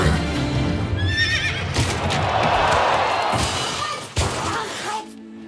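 A horse neighs loudly at close range over clattering hooves, with a sharp slam-like thud near the end, in a show-jumping setting.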